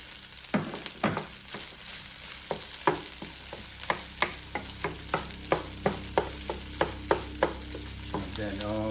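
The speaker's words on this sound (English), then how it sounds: "I'm gonna add my eggs in now. Just chop that up in just like that." Eggs are chopped and stirred into sizzling bacon fried rice in a Power XL cooker, and a spatula strikes the pan in a steady run of about fifteen sharp taps over a constant close fry hiss, with no voices.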